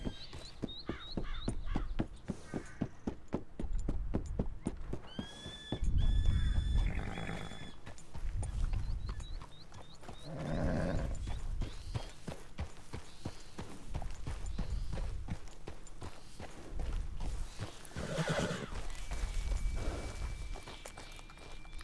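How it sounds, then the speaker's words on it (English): A horse in the Western video game Red Dead Redemption clops along with steady hoofbeats, with occasional whinnies and bird calls over an outdoor ambience. "Yes, my horse's name is Pokey."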